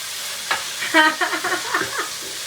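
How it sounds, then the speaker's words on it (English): Lamb keema sautéing in a pan in its own released fat, a close, bright sizzle with scraping stirs for a couple of seconds. "we are going to continue to saute this, and you'll see that the lamb also releases a lot of its own fats"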